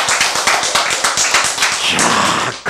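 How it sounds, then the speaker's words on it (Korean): An audience at a church sermon claps in a steady, rapid rhythm, loud and close, continuing for several seconds without speech. "하여튼 박수부터 치고 보세요."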